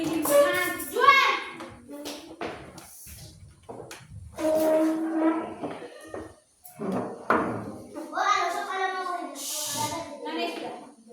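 Fourth-grade schoolchildren in an Indonesian civics class clap in rhythm while chanting together, a loud chorus of young voices and hand claps alternating with a teacher's spoken prompts between rounds.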